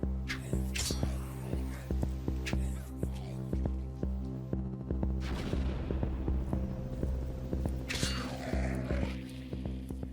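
A boomer zombie blows up in the video game Cataclysm: Dark Days Ahead, giving a couple of muffled, rumbling bursts over a steady low electronic hum, with no talking.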